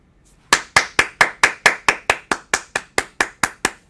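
Steady, evenly spaced hand claps, about fourteen sharp claps in quick rhythm, close and loud with no talking.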